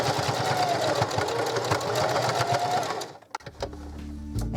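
Sewing machine stitching drying mats into a beach bag: a steady, fast, whirring run of stitches for about three seconds, then it stops and a short low hum follows.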